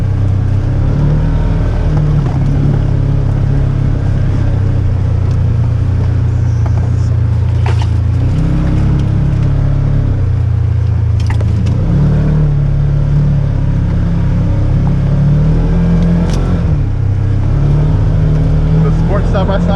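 2021 Polaris Ranger 1000 EPS side-by-side driving at night and losing traction, its engine droning loud and close with shifting revs, while people talk over it.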